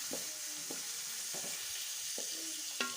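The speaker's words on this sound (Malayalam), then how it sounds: "സവാള വാടണ വരെ നമുക്ക് ഇത് ഇതുപോലെ ഇളക്കി കൊടുക്കണം" Sliced onions sauté in hot coconut oil for a chicken curry, with a steady sizzle and several distinct scrapes of a spoon stirring them in the pan, close and fairly loud.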